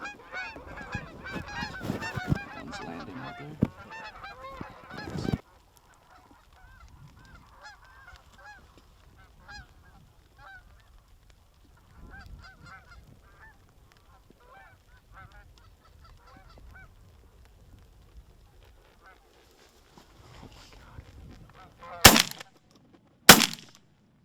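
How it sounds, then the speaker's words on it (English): Geese honking as they fly into a decoy spread on a late-season hunt in North Dakota, a dense chorus of calls up close at first, then scattered distant honks trailing off, with two sharp gunshots near the end. "the geese are flying pretty good and they're coming into our spread"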